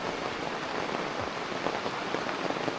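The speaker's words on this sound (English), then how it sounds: "And the rain, you know, listening to the rain." Rain falls steadily on a mountaintop campsite during a storm, a dense, even hiss of drops pattering close by, with no voices over it.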